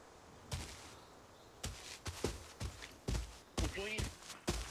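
Gunfire in the Arena Breakout shooter game, a scattered series of sharp shots arriving in short bursts, some louder and nearer than others, while someone talks over the action.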